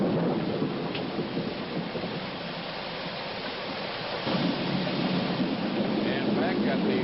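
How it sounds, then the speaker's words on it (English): Steady heavy rain pouring down during a drenching storm, a dense continuous hiss with a low rumbling undertone that grows slightly stronger partway through, no voices. "they are enjoying the first decent rains in 4 months"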